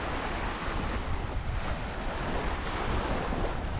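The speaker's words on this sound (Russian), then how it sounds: "Тут ветер поднялся." Strong wind buffets the microphone while ocean waves crash and surge nearby on a Maldives island, a dense continuous roar without any speech.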